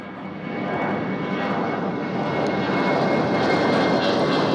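A JetBlue jet airliner passes at Nashville International Airport, its engine roar a broad, steady rumble that builds gradually and stays loud, heard from a fair distance with no talking.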